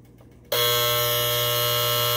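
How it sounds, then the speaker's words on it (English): A 1948-1958 Westclox Moonbeam Model S-5J alarm clock buzzer starts abruptly after a short quiet moment, then drones on steadily and loudly as a harsh electric buzz. "And there's the buzzer on that"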